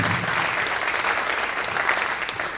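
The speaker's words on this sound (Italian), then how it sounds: "facciamo veramente un grande applauso a tutti i nostri atleti" Audience applause for athletes at a Paralympic sports gala, a full, even roar of clapping from a large indoor crowd, loud and unbroken throughout.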